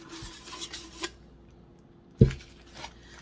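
Someone rubs and cleans the inside of a tumbler, giving soft scattered scuffing strokes with a sharper knock partway through, quiet and close.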